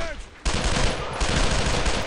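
Bursts of rapid automatic gunfire from a squad in the World War II shooter Brothers in Arms: Road to Hill 30, loud and continuous after a short quieter lead-in, with a brief break before the firing resumes.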